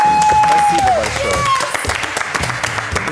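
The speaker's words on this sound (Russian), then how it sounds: "и аплодисменты, эти тоже вам" Audience applause at a TV-versus-KVN comedy contest show, dense clapping with background music tones early on, staying steady and fairly loud throughout.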